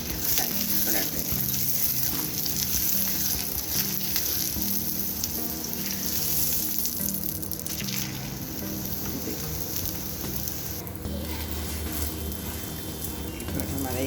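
Aloo paratha sizzles steadily in a thin layer of oil on a hot pan, a continuous close frying hiss with faint clatter, and a soft voice is briefly heard in the background.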